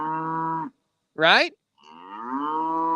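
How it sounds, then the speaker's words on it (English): A fussy cow in a barn at evening chore time gives loud, close moos: a sustained low call, a short rising whine, then another long drawn-out moo, with a brief spoken word between. "That's the fussiest cow. Stop whining and eat your hay bale."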